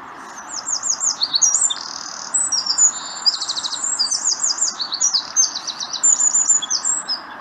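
A tiny brown bird with a cocked tail sings a loud, far-carrying, melodious song: repeated rapid trilled and chirping phrases in quick succession, close and clear above a faint low background hum.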